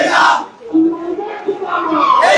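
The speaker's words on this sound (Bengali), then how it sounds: "আপনারা দেখতে পাচ্ছেন আওয়ামী লীগ নিষিদ্ধের দাবিতে বিভিন্ন স্লোগান দিচ্ছেন শিক্ষার্থীরা" Students march in a protest in Dhaka and chant slogans in unison. Loud, close, rhythmic crowd voices rise and fall, with a leader's calls answered by the group.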